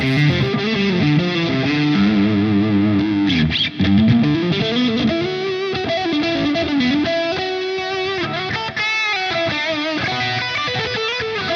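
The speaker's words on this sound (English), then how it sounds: "I have basically a double octaver, so up octaver and lower octaver" Heavily processed electric guitar through a double octaver effect on a Fender Tone Master Pro, playing a melodic line, thick and buzzy with added octave layers above and below, continuous and loud.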